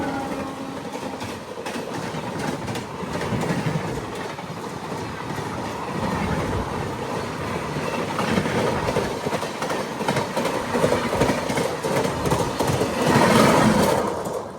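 Howrah–Chennai express train passing on the line near Sullurpeta, a steady rumbling roar with rhythmic clickety-clack of wheels over rail joints, fairly close and swelling toward the end, with no voices.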